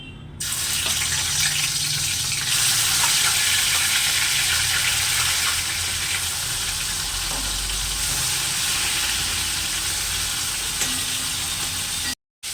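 Fish frying in hot oil in a wok for an old-style prawn and pointed gourd recipe, a steady, loud, dense sizzle that holds without a break, then cuts off abruptly near the end.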